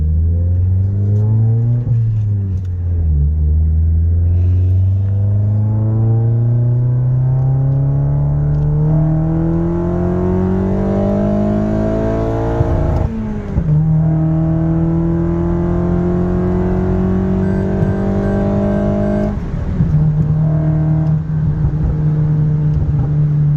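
A tuned Toyota Corolla accelerates hard from a 40 mph roll, its engine note climbing steadily in pitch with two distinct gear shifts before pulling again, loud and continuous throughout.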